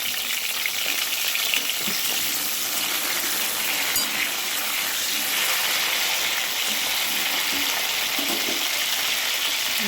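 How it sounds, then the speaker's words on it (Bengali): Steady, close sizzling of pointed gourd frying in a wok, with occasional soft stirring scrapes; no voices. "কড়াইয়ের মধ্যে পটলগুলি আমি ছেড়ে দিচ্ছি ভাজার জন্য"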